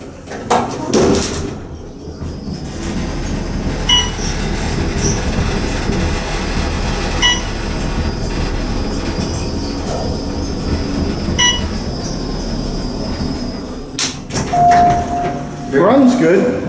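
An old Dover traction elevator modified by Otis, running in a parking garage with a steady low motor hum and rumble, door clunks and rattles near the end, and people talking over it.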